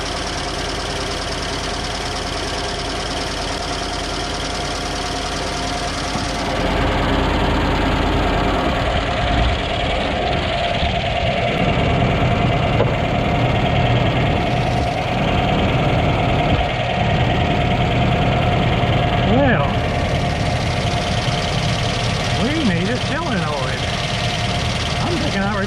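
A 1994 Ford F-150 engine with a new battery cranking and then settling into a steady rough idle with some knocking, running close by while someone talks over it.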